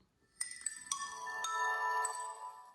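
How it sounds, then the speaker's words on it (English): The classic Nokia startup tune from a Nokia Asha 210 feature phone plays as a short series of bright, chiming tones, clear and close, the last notes ringing out over a quiet background. "The classic Nokia sound."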